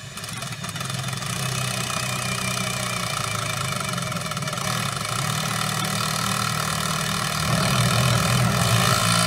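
Ryobi compact drill/driver running on low speed, a steady loud motor whine with a low gear-driven hum that holds constant throughout, alone with no talk.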